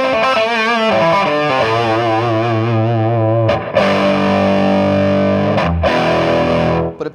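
Electric guitar played through a 3 Monkeys amplifier with retro-style overdrive, sustained distorted chords and bent notes ringing loud and close, with a couple of quick pick scrapes between phrases and no talking.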